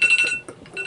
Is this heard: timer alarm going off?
yes